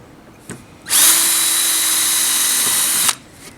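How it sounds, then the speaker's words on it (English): A power drill pre-drills screw holes near the end of a wood board while building a chicken coop: a faint tap, then a loud, steady high whine for about two seconds that cuts off abruptly, followed by light knocks. "I am pre-drilling my screw holes, especially here at the end of the board"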